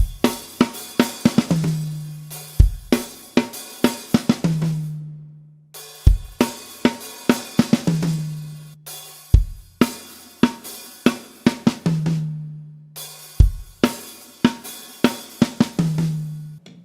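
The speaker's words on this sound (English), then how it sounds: "now the final chorus, fill number 1, sounds like this." Drum kit playing the final-chorus fill of a song: crisp cymbal and snare hits with repeated booming low tom strikes, a steady punchy rhythm of roughly four bar-long phrases, played alone with no talking.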